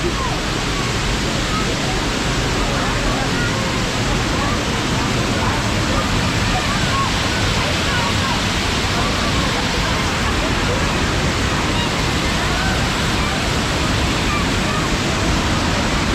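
Water pours over roadside falls in a dense, loud, unbroken roar heard close up, even and continuous throughout.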